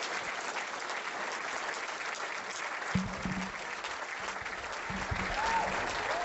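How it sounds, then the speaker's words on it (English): Audience applause for a guest speaker at a talk event, a steady sustained wash of clapping from a mid-sized crowd with a faint voice near the end. "I have a round of applause for Kevin Shipp, whom I respect greatly."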